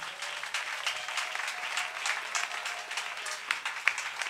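A church congregation applauds in a sustained, dense wash of clapping at moderate distance, steady throughout with no break.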